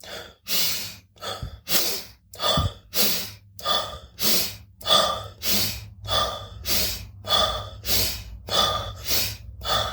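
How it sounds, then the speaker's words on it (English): Rapid rhythmic breathing, about fourteen quick breaths in ten seconds, each with a sharp inhale and a shorter exhale, close and steady, with no talking. "So it's fast breathing. You breathe in more and longer than you breathe out."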